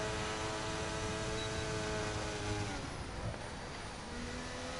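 A McLaren race car speeds down the main straight of a Japanese circuit in a racing video game, its engine holding a steady high-pitched drone that stays loud throughout and dips slightly toward the end.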